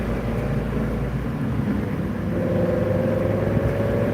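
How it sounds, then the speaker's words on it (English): An old Ford Mustang Mach 1 engine rumbles steadily nearby, a deep exhaust drone holding low and rising slightly in tone partway through. "Mustang. I know you guys can hear that exhaust."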